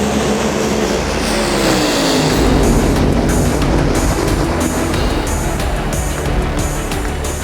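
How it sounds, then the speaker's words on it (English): A drag racer roars at full throttle down the track, a loud sustained engine blast that dominates, its pitch shifting as it passes and fades slightly into the distance. "his drag racer blast down this track with our part, our injector spacer attached to the engine"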